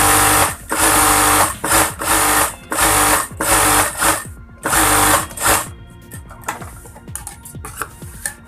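A sewing machine stitches a shirt's button placket with a double 1/16-inch seam, running in loud, even bursts with short pauses between them, then slower, lighter stitching at the end.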